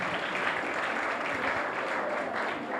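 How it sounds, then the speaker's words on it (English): A seminar audience applauds in a dense, sustained wash of many hands clapping, fairly loud and close, continuing evenly without a break from start to finish. "Please, let's clap for them."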